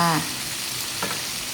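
Catfish red curry stir-fried in a pan, a steady close sizzle with a brief scrape of the spatula near the start and another stir about a second later.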